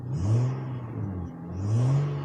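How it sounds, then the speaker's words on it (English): A car engine revs twice, each rise climbing in pitch then falling back to idle, close and fairly loud. "Gonna give it a quick rev."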